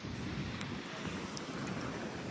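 Wind from Cyclone Ditwah in Sri Lanka buffets the microphone with a constant low roar, a few faint distant chirps poking through.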